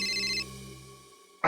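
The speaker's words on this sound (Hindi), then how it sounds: "इस वक्त किसका फोन आ गया?" A telephone rings late at night, a bright electronic ringtone with steady tones that cuts off partway through, followed by a sharp burst of noise at the end.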